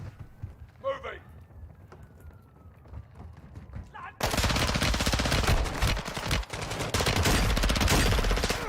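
Sustained automatic gunfire in Call of Duty: Modern Warfare 2, with a quieter stretch of scattered shots and movement giving way to a loud, dense burst of rapid fire that continues to the end.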